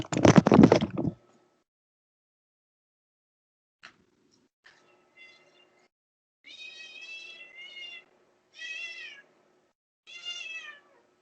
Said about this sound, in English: My cat just wants to come in.